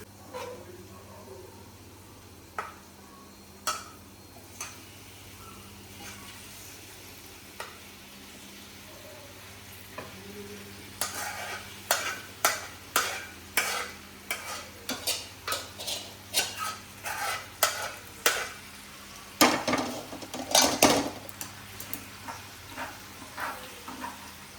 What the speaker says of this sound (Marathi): पास्ता तिला हलवता नाही पाहिजे म्हणून मी हलवून देते.